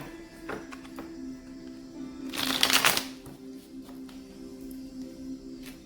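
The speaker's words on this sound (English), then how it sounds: "Two more shuffles for Sagittarius' person." A deck of tarot cards is shuffled in one loud, crisp riffling burst near the middle, set against a quiet room with faint handling sounds before and after.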